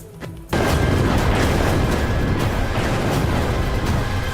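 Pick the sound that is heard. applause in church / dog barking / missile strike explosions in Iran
missile strike explosions in Iran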